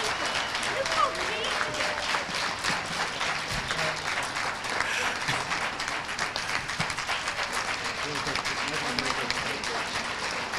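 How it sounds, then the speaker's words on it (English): A banquet audience gives sustained applause, many hands clapping densely and evenly at moderate loudness, with voices and cheers mixed in throughout. "let's give them a round of applause"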